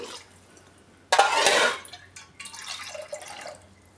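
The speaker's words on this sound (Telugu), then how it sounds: "ఒక గ్లాస్కి ఒకటిన్నర చొప్పున మనం ఇందులో నీళ్లు వేసుకోవాలి కుక్కర్లో చేస్తున్నాం" Water poured into a pressure cooker for mint rice makes a burst of splashing and trickling for about a second, then scattered softer drips and pours continue nearby with no voices.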